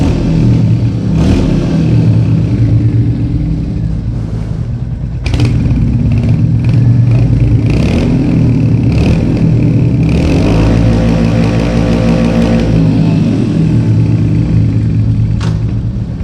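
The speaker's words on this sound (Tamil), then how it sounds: "வண்டி நார்மல் பீட் இது. ஸோ லைட்டாக ரேஸ் பண்ணுறேன். இப்போ கொஞ்சம் அதிகமாக, இப்போ ஃபுல் பண்ணலாம்." Royal Enfield Hunter 350 motorcycle engine revving inside a subway, the echoing exhaust climbing from a steady idle through light blips to hard full-throttle revs, loud and close throughout with no talk.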